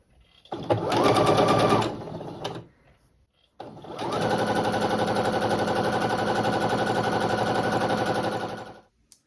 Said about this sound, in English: sew a 1/4 inch along that fold